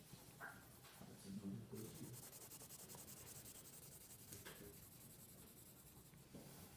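A soft 6B pencil shading a value scale on paper, with repeated back-and-forth rubbing strokes that scratch faintly and closely, rising and easing with each pass.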